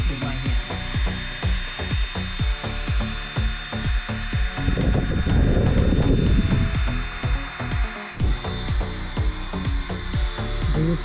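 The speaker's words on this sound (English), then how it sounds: "I let the drill do all the work." A drill with a polishing pad buffing the bumper of an Audi S4, a loud continuous mechanical whir with rapid rhythmic ratcheting pulses and a surge of rubbing friction midway, close up and without talk.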